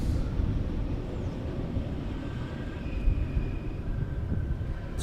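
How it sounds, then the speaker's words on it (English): Airplane passing overhead near Schiphol Airport during gusty crosswind arrivals, a steady low rumbling drone with wind buffeting the microphone, fairly even in loudness throughout with no voices. "Airplane passing overhead."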